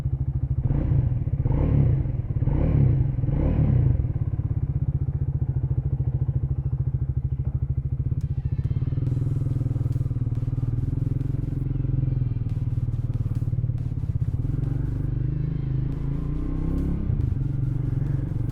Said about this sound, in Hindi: अब इसका एग्जॉस्ट नोट सुनते हैं।